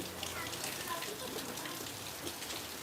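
Monsoon rain pours steadily, a dense, even hiss of drops holding at a constant level throughout with no breaks, as if falling on leaves and surfaces nearby.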